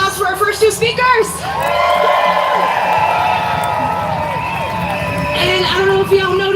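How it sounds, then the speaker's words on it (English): A protest crowd at the nationwide Hands Off rally in Denver cheers and whoops for its first speakers, with a sustained roar of many voices, loud shouts and whistles over a continuous crowd wash. "let's give a round of applause for our first two speakers"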